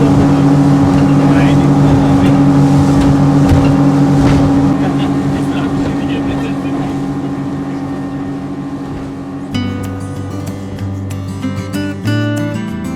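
Speedboat crossing open ocean water in the Maldives, its engine a loud continuous roar with wind and spray that gradually fades; a sudden change partway through brings other sound into the mix.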